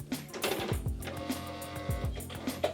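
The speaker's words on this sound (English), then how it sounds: "let's try stitching it now and hope it goes okay" Sewing machine stitching a simple tote bag, a quiet, close series of short mechanical clicks and thumps at an uneven, hesitant pace.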